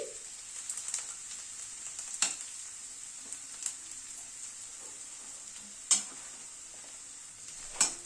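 Carrots stirred and frying in a pan for a dal recipe with spinach and winter vegetables: a steady soft sizzle runs throughout, broken by a few sharp scrapes or knocks of the spoon against the pan.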